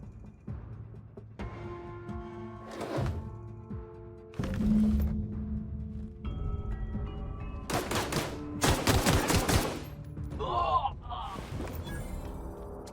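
Gunfire in The Outer Worlds video game comes in bursts, short volleys and sharp single cracks spread across the stretch, with loud rapid clusters near the end, over low engine-like rumble and occasional voices.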